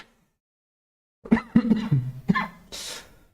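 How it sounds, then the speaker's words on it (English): After a second of silence, a person coughs several times in a rough, close burst, ending with a breathy exhale. "Why are you coughing? Because I'm sick."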